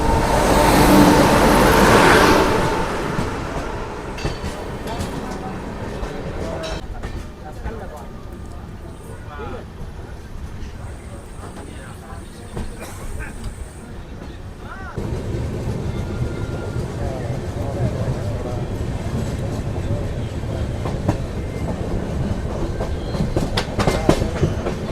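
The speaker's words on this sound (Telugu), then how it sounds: "ట్రైన్ చూద్దాం." The Telangana Express rolls along the tracks from Hyderabad toward New Delhi, a steady rumble with clickety-clack of wheels over rail joints, loud at first then settling into a constant drone, heard from inside a crowded general coach.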